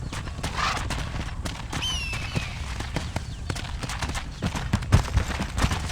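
Horse hooves in Red Dead Redemption clip-clop at an unhurried walking pace, with a brief whinny partway through over a low outdoor rumble.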